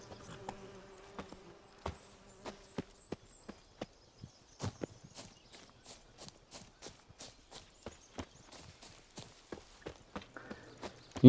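Roach the horse's hooves clip-clop steadily in The Witcher 3, a regular walking rhythm of sharp, close hoof strikes on hard ground, heard alone without talk.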